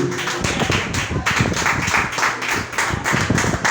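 Rhythmic clapping from a church congregation at a sermon, many hands striking in a steady quick beat, loud and close, with a low rumble underneath and no speech.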